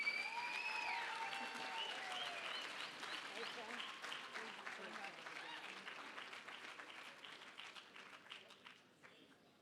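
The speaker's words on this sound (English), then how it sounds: "Please give a round of applause for Christy King." Applause from the audience at an international auctioneer championship as a judge is introduced, steady clapping over fading music tones that gradually thins out toward the end.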